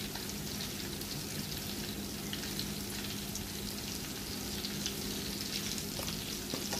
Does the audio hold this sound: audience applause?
no